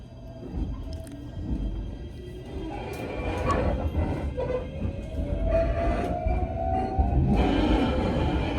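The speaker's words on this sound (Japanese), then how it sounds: "箕浦駅を発車しました。" A local train pulls out of Minoura station in Japan, a low rumbling build of wheels and motor that rises steadily in loudness, with a rising whine from the motor and occasional clanks.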